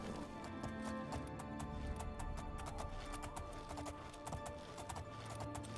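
Horse hooves clip-clop steadily in the Elder Scrolls game Oblivion, a continuous rhythmic trotting under layered game music and ambience, with no talk over it.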